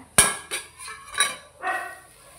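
Metal lid set onto a cooking pot of paneer bhurji simmering on low heat, heard as four or five sharp clinks and clatters close by, the first the loudest, then softer rattles as it settles.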